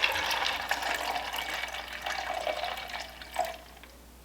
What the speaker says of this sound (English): So I added most of the water.